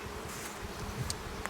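Honeybees swarm audibly around an opened hive during a spring inspection, a dense, steady hum held close and unbroken throughout, with faint handling sounds mixed in.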